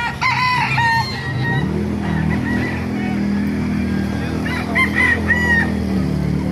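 Roosters crow and chickens cluck over a steady low rumble at a market in Bocaue, a few short calls near the start and another burst toward the end.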